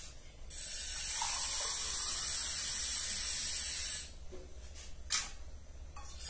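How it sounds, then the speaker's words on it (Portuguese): A steady hissing stream of water pours into a kettle for about four seconds, close by, then stops, followed by a few light clinks. "Vou colocar aqui, ó, um copo de água e vou colocar pra ferver"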